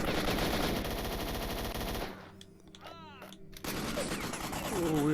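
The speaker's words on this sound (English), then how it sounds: "we are taking fire" Gunfire in Stalker: Shadow of Chernobyl, rapid automatic bursts rattling loudly and close, breaking off briefly for a pause with faint chirping, then resuming in another heavy volley.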